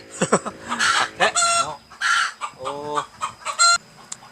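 Chickens clucking loudly and nearby in a burst of choppy, uneven calls, with people talking in between.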